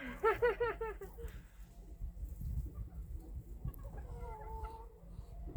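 Bantam chickens outdoors in winter let out a quick burst of clucking, then quieter soft calls over a low rustling background, faint and fairly close.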